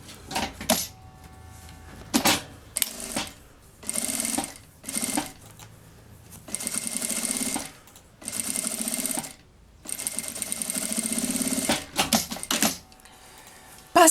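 Sewing machine stitching bias binding along the edge below a zipper on a child's backpack, running in bursts of varying length with short pauses between, close and fairly loud with no talking.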